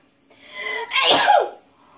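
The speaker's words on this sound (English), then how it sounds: "Sneeze." A single sharp sneeze preceded by a quick drawn-in breath, close and loud, with quiet before and after.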